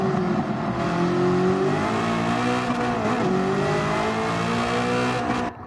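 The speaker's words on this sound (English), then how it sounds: "It's a fairly factory stock car, but this has full exhaust and a cam" A mostly stock street car fitted with a full exhaust and a cam accelerates hard on racing tires, its engine note climbing loud and close through the gears before easing off at the end.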